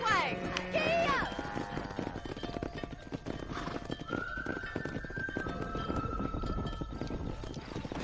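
Horses galloping and being driven in the Red Dead Redemption western video game: steady clip-clop of hooves throughout, with a whinny or neigh near the start, under a busy game soundscape.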